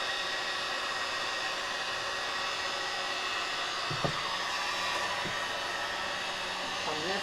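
Heat gun blowing hot air over freshly mixed resin, a steady faint hiss of airflow with a couple of small knocks near the end.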